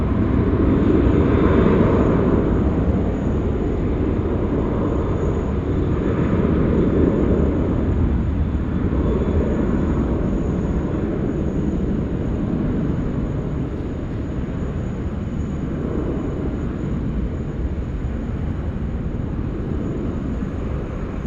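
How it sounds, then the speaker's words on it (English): A Qantas Boeing 737 taxis at Sydney Airport after landing, its engines giving a continuous low rumble and hum that swells and eases slightly, heard from a distance with no talk. "see there's a Qantas 737 that's just landed out there at 16 left, currently taxiing home on Tango"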